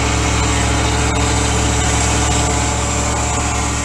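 A 1984 Dodge D350 truck engine idles with a new muffler fitted, a loud, steady, even drone heard close up with no voices.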